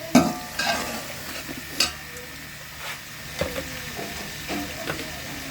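Whole spices roasting in a pan for chicken pulao, stirred with intermittent scraping strokes over a soft background sizzle, close and moderately quiet.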